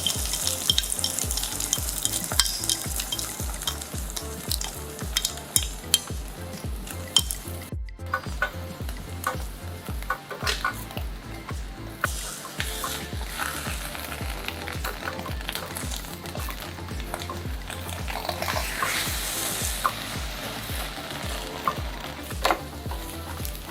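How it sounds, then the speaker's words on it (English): Egg pan-frying in butter sizzles steadily and close, with repeated rhythmic scraping and clinks of a utensil against the pan throughout and a short gap of near silence partway through. "Then pan fry the egg until golden brown and cooked."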